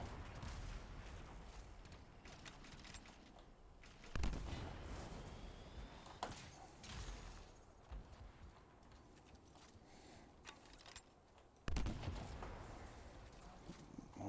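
Heavy gunshots in a video game, a few loud booming reports spaced several seconds apart, each followed by a decaying tail over a low ambient background.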